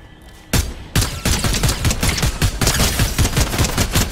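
Rapid bursts of Fortnite gunfire in a duos match crackle close and loud, dense volleys of shots firing almost continuously after a brief quiet opening.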